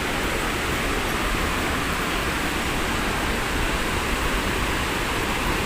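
A natural waterfall beside a swimming pool rushes in a steady, dense roar, constant and even from start to finish with no voices.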